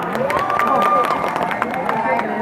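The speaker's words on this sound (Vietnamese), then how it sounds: "Vỗ tay thật to các bạn thấy được không ạ?" An audience claps for a talent performance at a Hmong New Year celebration, with scattered, uneven hand claps under a voice that talks over them.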